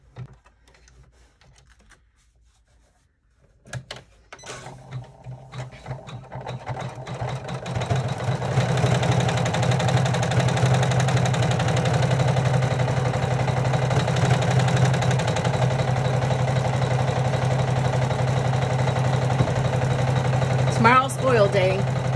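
After a quiet start and a few clicks, an embroidery machine stitching a double zipper clutch starts up and settles into a steady, loud mechanical hum and rapid rattle that continues to the end.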